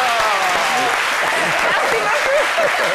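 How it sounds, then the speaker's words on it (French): Studio audience applauding for Marie-Paul Adjé after her chronicle on a Senegalese TV show, a dense, steady burst of clapping with crowd voices mixed in, close and loud throughout. "les applaudissements pour Marie-Paul Adjé qui vient de nous livrer cette belle chronique"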